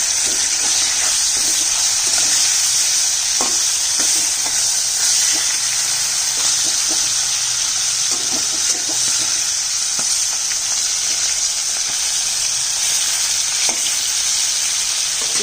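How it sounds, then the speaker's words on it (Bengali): Fish frying in hot oil in a pan, a steady loud sizzle and hiss running throughout with occasional crackles and pops, no voices. "এইভাবে আমি সমস্ত মাছগুলো ভেজে নিয়ে আসছি"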